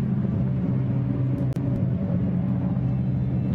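A Jaguar GT race car runs down a slope at Barcelona during Blancpain GT endurance pre-qualifying, its engine a continuous, loud low rumble with one brief dip in the middle.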